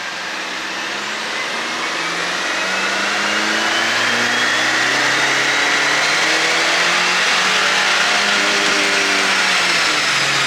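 A tuned Chevy Silverado pickup engine pulls hard under full throttle, its loud, rising roar climbing steadily in pitch with no voices over it.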